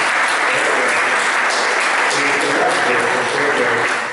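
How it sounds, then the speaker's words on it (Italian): Loud, dense audience applause at a book presentation in Cleto, a sustained wash of clapping that holds steady and then starts to fade. "un applauso davvero."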